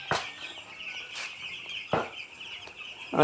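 Busy chirping of chicks in a poultry shed, sharp calls popping out every second or so over a constant high background chatter.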